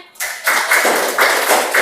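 A class of students claps hands together in a classroom, a burst of close, dense clapping with a few louder swells, continuing steadily to the end.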